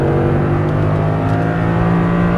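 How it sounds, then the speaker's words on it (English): Audi R8 accelerating hard on a race track, a loud steady engine drone close by that holds strong throughout with no voices. "Now accelerate."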